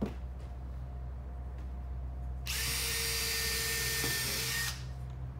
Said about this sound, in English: And then you pre-drill.